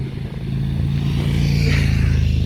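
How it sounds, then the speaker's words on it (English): A motorcycle passes on a street near Castle Zuylen in Utrecht, a steady, fairly loud engine drone with low rumble that holds throughout, rising slightly toward the end, with no talk. "that was a motorcycle."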